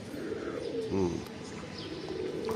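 Racing pigeons on a rooftop giving soft, low cooing calls close by over a constant background hum, brief and fairly quiet.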